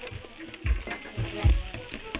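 A whisk working through stiff mashed potatoes, soft irregular wet slapping and scraping strokes, close and fairly quiet, with no talk.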